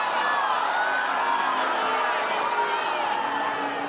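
A tennis match crowd boos Just Stop Oil protesters in a loud, unbroken wall of voices that holds steady throughout.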